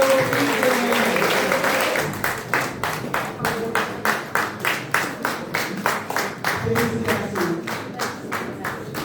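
An audience at a prize award ceremony in Brussels breaks into loud applause for the medal winner. The scattered clapping soon settles into a strong, steady rhythm of claps in unison that runs on for several seconds.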